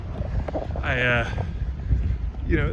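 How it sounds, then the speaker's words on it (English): Gusty wind buffets the microphone with low rumbling throughout, while a voice talks over it. "it's windy"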